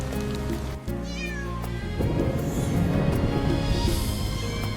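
A small black kitten meows several times in the rain, high and close, over a steady bed of rainfall and dripping water.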